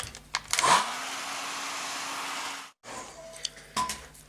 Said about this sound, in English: Excuse the hairdryer again.